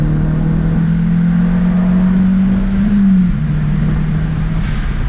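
A Honda S2000 sports car accelerates hard: a loud, steady engine drone from inside the cabin that rises slightly in pitch, falls back and then holds.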